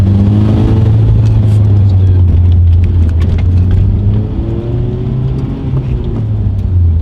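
Tuned Honda Civic Type R making around 500 wheel horsepower accelerates hard and is shifted gently, a loud close engine drone with rising and dropping pitch between gears under road and wind noise.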